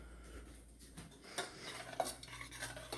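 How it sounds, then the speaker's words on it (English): A utensil stirs a no-bake cookie mixture of cocoa powder and other ingredients in a pot, soft scraping strokes with occasional clinks against the pot, close and fairly quiet, without talk. "We are just stirring it periodically to combine all of the ingredients"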